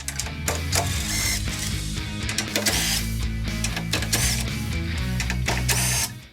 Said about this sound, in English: With a 10mm socket, we'll remove these 4 screws right here that are holding the grille on.